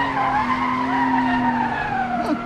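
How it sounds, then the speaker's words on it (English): A car's tires skid in a power slide under braking at a race track, giving a loud, continuous squeal with wavering pitch over the engine drone for the whole stretch. "We kind of lost grip and got in a little of power slide"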